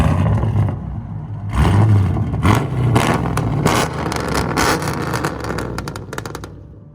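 A 2017 Chevy SS with a 6.2L V8, long tube headers and fully straight pipes revs hard in loud, sharp bursts, with rapid popping crackles between blips, close and aggressive, then trails off at the end.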